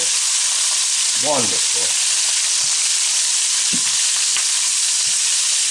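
Lobster pieces sear in butter and garlic in a hot pan with a steady, loud sizzle and a brief clatter as they are flipped. A short spoken word sits over the frying.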